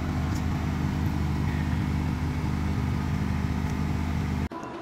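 Steady traffic rumble on a hot day outside Avenue Mall, a dense low engine drone running continuously before cutting off abruptly near the end.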